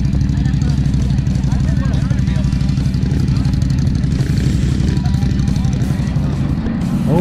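ATV engines in the 500-750 class drone and rev continuously on a race track, a loud steady mechanical roar with people talking over it.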